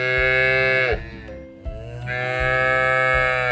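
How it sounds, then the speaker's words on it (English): A cow lets out two long, loud moos close by, separated by a brief lower groan, with no other sounds around. "It's a cow."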